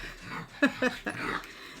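Dog whimpering in short high yips, three or four brief whines close by over a quiet, faintly noisy room.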